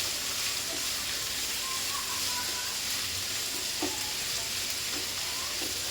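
Chayote sautéing in a pan gives off a steady, close, bright sizzle, with occasional scraping stirs against the pan and no talk.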